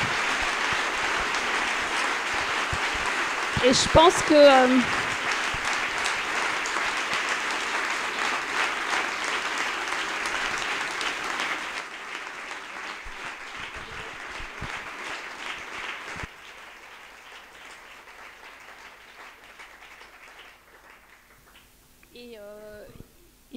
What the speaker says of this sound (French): je pense qu'on peut déjà les applaudir pour cette prestation